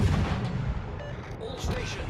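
Heavy naval gunfire from the cruiser Atlanta in World of Warships, a dense rumbling barrage of booms rolling continuously, loud and close, with a voice talking over it.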